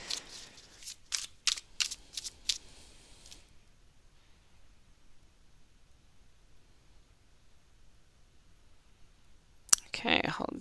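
Several quick crisp riffles of shuffled tarot cards near the start, then near-silence, then another brief burst of shuffling at the end.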